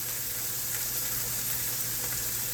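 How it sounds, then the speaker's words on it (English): Ham browning in a frying pan, giving a steady, close sizzle with an even crackle throughout and no talking. "I'm going to fry the ham and brown it a little bit"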